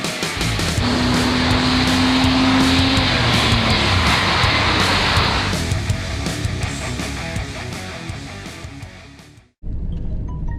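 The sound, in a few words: Chevrolet Blazer driving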